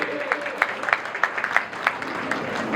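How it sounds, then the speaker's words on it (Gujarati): An audience claps to welcome a guest, a local legislator, at a public gathering, a steady patter of scattered hand claps with sharper bursts throughout, moderately distant and somewhat thin. "જોરદાર સ્વાગત કરીએ આપણે તાળીઓથી"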